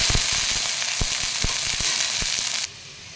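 Okra pieces dry-roast in a pan with a crisp, steady sizzle broken by scattered clicks and taps of stirring, then the sound drops away abruptly near the end.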